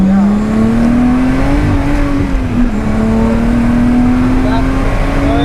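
A race car at Oulton Park drives on light throttle, its engine a loud, steady, close drone that climbs gradually in pitch as it accelerates.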